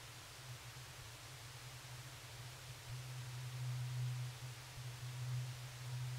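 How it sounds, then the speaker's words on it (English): A t-spectrum filter module with its spread knob turned fully up makes a steady, loud noise wash, and a raised resonance peak forms a strong low band that swells partway through. "if we turn the spread knob all the way up, we can see and hear how the resonance peak is raised"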